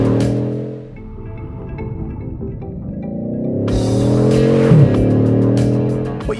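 A Bugatti Chiron supercar drives along. Its engine drones steadily, the pitch climbing as it accelerates, and a brief scuffing burst comes partway through. The sound is loud and close, with no talking.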